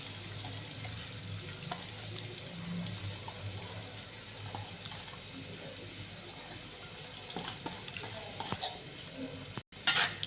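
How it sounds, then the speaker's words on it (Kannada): Washed flattened rice for masala avalakki goes into a pan and is stirred, giving a soft, steady sizzle with faint scraping, fairly quiet throughout and a few sharper knocks near the end, with no talking. "ಇದು ಅವಲಕ್ಕಿ ತೋರಿಸಿದ್ದು ಇದ್ರೊಳಗೆ ಹಾಕ್ಕೊಂಬಿಡೋಣ್ರಿ."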